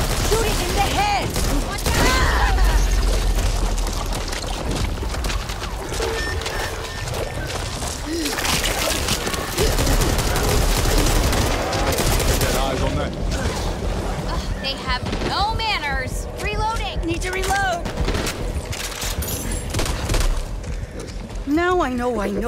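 Gunfire from the zombie shooter game Back 4 Blood crackles in repeated bursts amid chaotic combat noise, thuds and game character voices, loud and dense throughout the stretch.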